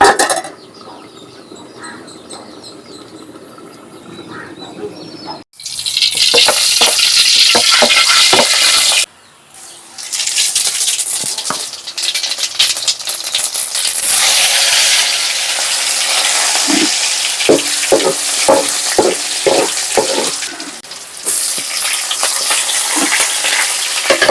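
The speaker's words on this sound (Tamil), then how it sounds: "ஜீரகம் போட்டிருக்கேன் அடுத்து பூண்டு அடுத்து பச்சை மிளகா" Cumin, garlic and green chili hit hot oil in a pan, setting off a loud, close crackling sizzle after a quiet start, broken by a short pause and then continuing with scattered pops and stirring clatter.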